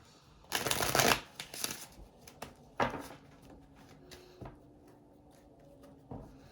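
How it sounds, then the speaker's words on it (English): Tarot cards are shuffled by hand for a reading, a close rustling riffle followed by scattered softer card slaps and shuffles with quiet gaps between them. "We're going to be pulling cards for Sagittarius."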